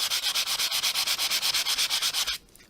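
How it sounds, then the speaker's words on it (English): A sanding block is scrubbed back and forth over embossed card to lift colour from raised stripes, about eighteen quick, even rasping strokes close up before stopping abruptly, with no voices. "we're going to go in with our sanding block now, and we're just going to take some of this colour off the top of these stripes."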